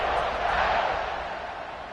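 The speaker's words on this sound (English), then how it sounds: "this crowd is buzzing after that last score" Stadium crowd buzzing in the NCAA 26 football video game during an Auburn vs UNC matchup, a steady broad roar of many voices, loud and continuous, easing slightly toward the end.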